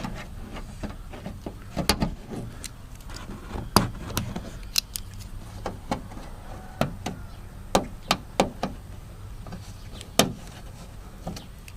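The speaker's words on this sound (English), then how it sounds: "remove these little tabs. All this will come off" Plastic trim tabs on the trunk panel of a 2018-2022 Honda Accord being pried and popped loose, giving a string of sharp, close clicks and snaps at irregular intervals, each standing alone over a quiet background.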